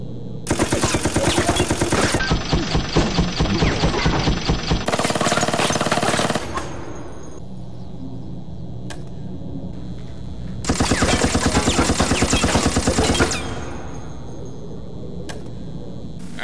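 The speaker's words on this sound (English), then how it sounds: "Alright, let's test the assault rifle out." Assault rifle fire in Resident Evil: Operation Raccoon City, loud sustained automatic bursts of rapid shots, a long string of fire, a pause with a few faint clicks, then another long burst, with no talking.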